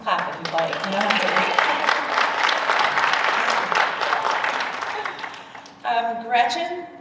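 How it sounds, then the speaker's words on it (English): An audience claps at a school National Junior Honor Society induction ceremony, a steady wash of applause lasting several seconds, fading briefly before a short renewed burst near the end, with a voice talking over it. "You can clap if you'd like."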